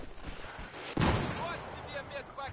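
Gunfire in the video game Battlefield 4, a sharp loud blast about a second in followed by scattered distant shots, with a voice talking over it.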